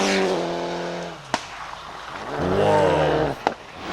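Mitsubishi rally cars racing at WRC Rally Finland 2000, loud engine notes rising and falling as cars rush past with gear changes, sharp bangs or pops between passes, close and powerful.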